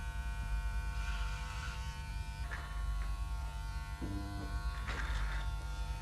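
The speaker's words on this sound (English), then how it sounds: "keeping the clipper close to your head" A Breville electric hair clipper buzzes steadily and close up while cutting hair at the side of the head, with faint changes in tone as the blades pass through the hair.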